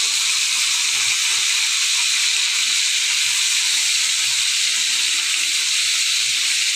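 Rohu fish fries in a pan of oil, making a continuous loud hiss that stays even from start to finish, with no voices.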